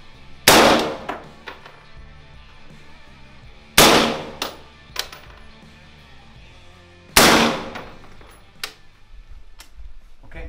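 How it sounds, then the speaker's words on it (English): Three sharp rifle shots a few seconds apart on an outdoor range, each followed by a metallic clang and short echoes from a steel target, loud and alone without talk. "nice slow aim fire, good shot release, good follow through"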